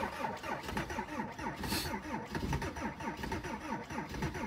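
A Mercedes diesel car engine cranks over and over with a rhythmic, labored churning as it struggles to start, fairly loud and close, with no voices over it.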